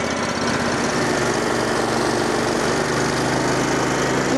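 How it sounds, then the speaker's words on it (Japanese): A Honda HSL2511J snow blower engine runs steadily, a loud close mechanical drone with constant vibration and no voices. "今度はエンジンかかるんです"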